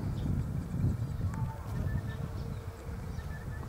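A low, steady buzzing of bees among almond blossom drifts through sunny outdoor air, faint and continuous, with no voices.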